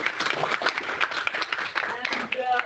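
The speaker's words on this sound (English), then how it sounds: "we give an applause" Conference audience applauding at the close of a session, a dense continuous patter of many hands throughout, with voices mixed in.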